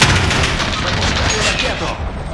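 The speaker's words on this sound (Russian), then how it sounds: "Запускаю ракету." Rocket launch in Call of Duty Warzone Pacific, a loud, dense roaring blast and rumble that fades near the end, with a voice speaking over it.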